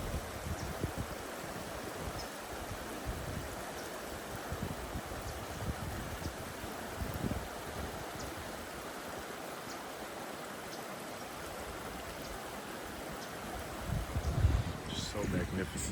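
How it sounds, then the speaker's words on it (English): Stream water running along a Southern California nature walk, a steady soft rush and babble heard at moderate distance, fairly faint, with light wind and occasional footstep-like bumps near the end. "the sound of running water, man."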